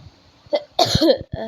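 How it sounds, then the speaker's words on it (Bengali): A few harsh, close coughs in quick succession, loud and abrupt, with short pauses between them. "আমার না খুব কাশি হচ্ছে তো একটুখানি কাশির আওয়াজ চলে আসে"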